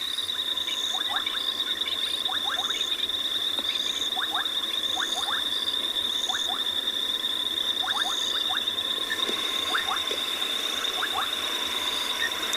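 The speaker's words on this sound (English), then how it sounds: "So there's a lot of frogs calling and the sound of water" Frogs call at night beside a dam with water flowing out of it, a steady high-pitched chorus with repeated short croaks in clusters, all over a constant rushing wash of water and no voices.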